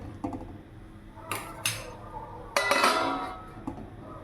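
A metal lid is set onto a pot of cluster bean curry, giving a few sharp clinks and a scraping rattle of metal on metal, close and fairly loud.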